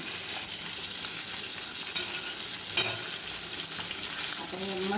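Fish frying in a pan with mint, a steady close sizzle of hot oil with crackling and a brief spatter burst midway, no talking.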